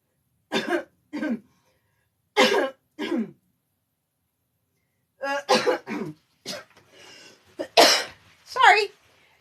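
A series of short, harsh coughs and throat-clearing bursts, close up, spaced unevenly with brief pauses, ending in a louder cluster.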